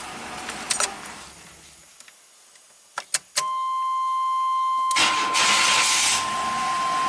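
A '91 GMC Jimmy 4x4, fitted with a new battery after a slow crank, gives a few short cranking bursts, then catches and settles into a steady idle with a bright whine, loud and close.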